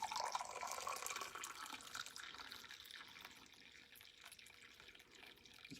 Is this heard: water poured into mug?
yes